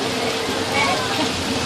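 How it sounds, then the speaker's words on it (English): Artificial rain pours down on a set as a steady, dense hiss of falling water, even and close, with a voice talking faintly over it. "Alright, Craig, I think that's enough rain for today."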